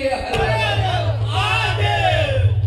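A gathered crowd at a devotional kirtan gathering calls out a victory cry to Chhatrapati Shivaji Maharaj, with many voices shouting together loudly over a steady low drone.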